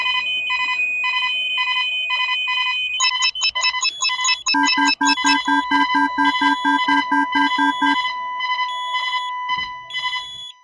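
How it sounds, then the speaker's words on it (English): Simple synthesized electronic beeps made as sonification feedback for minimally invasive surgery play alone in rapid repeated patterns, with steady tones, alarm-like pulses and a denser stuttering burst in the middle. "using conventional simplistic synthesis technique, we may end up with sounds like this."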